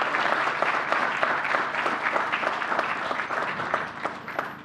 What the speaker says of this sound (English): Give New Yorkers an applause, round of applause.